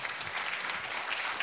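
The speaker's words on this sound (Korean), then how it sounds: "큰 박수로 환영해 주시기 바랍니다." Applause from an audience at a Korean equestrian competition forum, welcoming a professor to the stage; steady, moderately faint clapping fills the moment with no voices on top.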